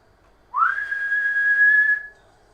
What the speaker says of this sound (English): It is a loud whistling sound.